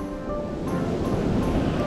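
Ocean surf rolls continuously onto the sandy shore of a beach in Sendai, a steady loud wash of breaking waves with some wind rush and no voices.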